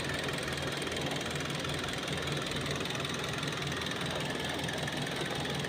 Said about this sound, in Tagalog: Ang ganda naman ang andar ng makina.